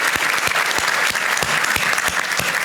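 Sustained applause from an audience filling a room at an annual industry meeting, dense steady clapping that holds at full strength throughout with no voices over it.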